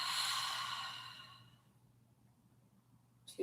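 Deep, slow exhale during yoga breathing, one long breathy sigh fading out over about a second and a half, near and soft, then quiet with a short sniff of breath at the end.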